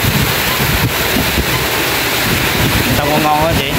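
Strong wind and heavy rain roar continuously and loudly during a storm, buffeting the microphone throughout.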